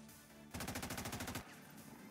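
A rapid burst of automatic gunfire in the video game XCOM 2 rattles out in about a dozen evenly spaced shots, loud and close, between quieter stretches of ambient game noise.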